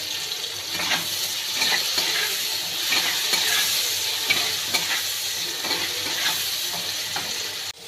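Onion and tomato frying in a pan while being stirred, a steady close sizzle with repeated scraping strokes of the spoon throughout, no voices.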